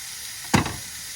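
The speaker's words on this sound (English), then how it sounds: "So the steak's been cooking for about 5 minutes." Steak sizzling on a Eureka SPRK camp grill, a steady faint frying hiss with one brief louder crackle burst.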